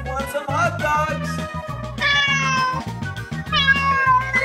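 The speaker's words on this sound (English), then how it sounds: "There's the cat!" Loud, nearby cat meows, several long wavering calls in a row with brief gaps, over a steady low drone.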